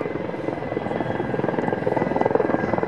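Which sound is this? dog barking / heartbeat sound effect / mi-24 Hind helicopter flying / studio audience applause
mi-24 Hind helicopter flying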